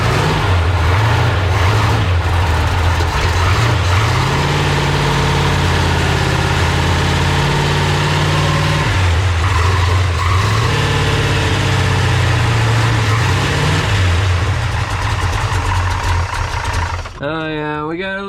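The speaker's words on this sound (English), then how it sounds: "I'm gonna try to start the truck" A Ford F100 truck engine runs loud and close, with a steady, rough idle and a few shifts in pitch, before it cuts off abruptly near the end.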